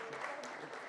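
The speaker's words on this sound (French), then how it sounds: "Vous pouvez l'applaudir." An audience applauds at a French conference on nuclear power and space as a speaker is invited on stage, a steady dense patter of many hands filling the short moment without pause.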